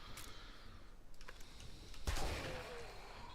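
A pipe shotgun fires in the video game 7 Days to Die: a single sharp blast with a low boom, preceded by faint clicks, heard in an otherwise quiet scene.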